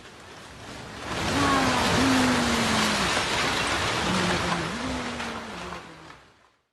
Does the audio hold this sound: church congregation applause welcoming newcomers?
no